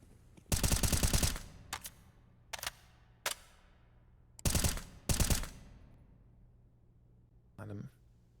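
Sharp automatic gunfire bursts in a competitive Counter-Strike-style shooter match, several rapid rattling volleys and single shots spaced irregularly, close and loud against a quiet background.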